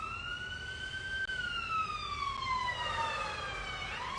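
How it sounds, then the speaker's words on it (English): A wailing siren sweeps slowly down in pitch as it passes by, fairly close and steady, with no one speaking. "It's a siren going by."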